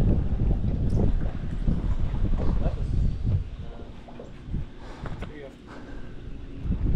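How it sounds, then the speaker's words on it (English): Wind gusting from the south over Grand Lake, low rumbling buffeting against the microphone with intermittent water and boat sounds, loud at first then easing, while people talk nearby. "Wind's picking up out of the south."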